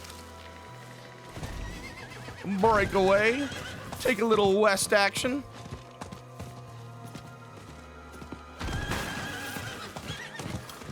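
Horse in the video game Diablo 4 neighing twice in loud whinnies, with hoofbeats clopping and galloping underneath and someone talking briefly over it.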